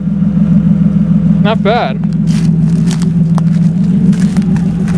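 A BMW E36 car engine idles steadily after a repair to a broken line, a loud continuous low hum with brief scrapes and clicks over it, while a person speaks briefly.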